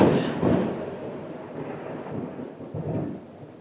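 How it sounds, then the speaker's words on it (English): Thunder from a storm rolls as a loud, low rumble that swells at the start and then fades into a drawn-out grumble, with no voices over it. "I got so rudely interrupted by the thunder"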